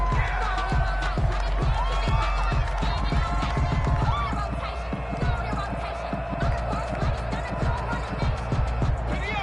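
A steady stadium crowd murmur and roar fills an American football video game matchup featuring the Eagles, running continuously under commentator speech, with scattered thumps and footfall-like hits.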